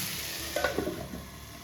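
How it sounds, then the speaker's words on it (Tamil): Onions fry in a pan for a spicy brinjal curry while they are stirred, giving a quiet, steady sizzle with a few soft scraping strokes in the middle of a short stretch. No one speaks. "கொஞ்சம் வெங்காயம் வதங்கிடும் எல்லாம் கிளறி விட்டாச்சு"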